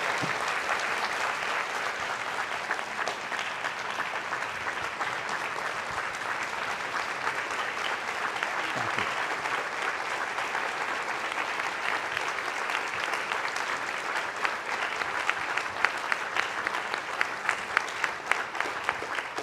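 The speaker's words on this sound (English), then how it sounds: "We can give Pete a round of applause, everybody" An audience applauds Holocaust survivor Peter Stern at the close of an evening of remembrance, a steady, dense wash of clapping sustained for the whole stretch without pause, with a few sharper claps standing out near the end.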